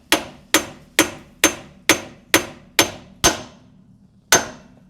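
A hammer drives a rear axle seal into a 2001 Ford Expedition, eight sharp metallic strikes in a steady rhythm followed by a pause and one final blow, loud and close with no talking.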